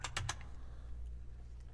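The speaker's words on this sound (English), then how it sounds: "We get that by typing over there in the search bar." Clicks of a computer keyboard as a name is typed into a software search bar: a quick burst of three or four close keystrokes at the start, then a low steady hum with no further typing.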